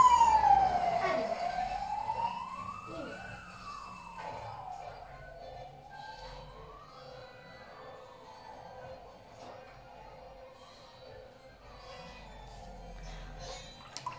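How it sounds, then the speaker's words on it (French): An ambulance siren passes along a street, its wailing tone sweeping up and down in slow cycles, loud at first and then steady at moderate volume as the vehicle moves by, with traffic rumble underneath. "il y a l'ambulance qui passe"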